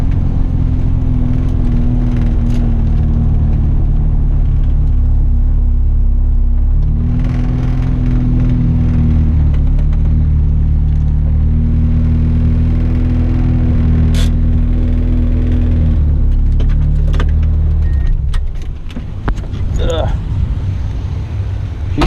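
A turbocharged Ford Escort GT runs a quarter-mile drag pass at Orlando Speedworld, its engine droning loudly with shifting pitch as it pulls through the gears, then fading toward the end under wind and background noise.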